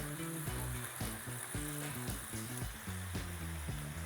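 Beef noodles in teriyaki sauce sizzling in a hot pan while being stirred, a continuous close frying hiss with rhythmic scraping and clattering strokes of the utensil, no voices.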